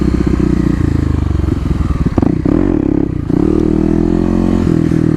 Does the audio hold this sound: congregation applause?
no